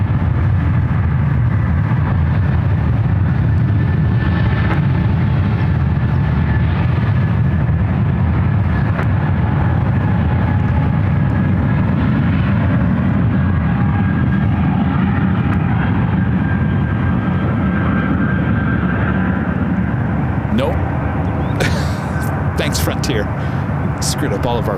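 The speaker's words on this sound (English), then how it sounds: "There's a Frontier flight now rolling down to one left." A Frontier Airlines jet rolling down runway 1L at San Francisco International produces a steady, distant low rumble that persists throughout, with voices present over it.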